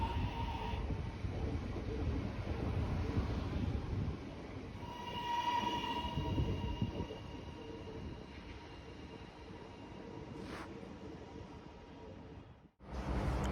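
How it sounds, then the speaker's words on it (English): An HCMT train, Set 70, runs through East Pakenham station on test, a steady rumble of wheels and motors with brief tonal whines, ending with a sharp clunk. "This here is a HCMT undergoing testing before taking passengers."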